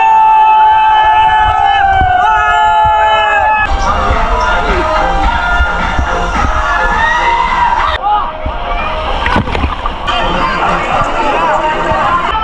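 A busy crowd fills Golden water park in Jaipur, with a constant loud hubbub of voices and splashing mixed with steady music-like tones that run through the whole stretch.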